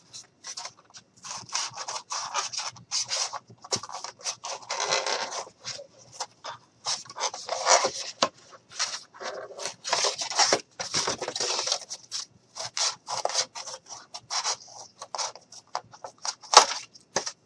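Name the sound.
cutting out blue jean fabric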